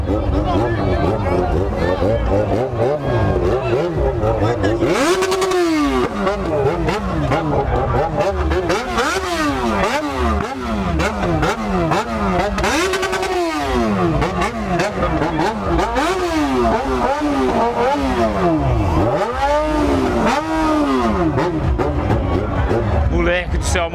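A Yamaha XJ6 motorcycle revs hard again and again among other bikes and cars at a crowded street gathering, the engine pitch sweeping up and down in repeated loud bursts over constant crowd noise and voices.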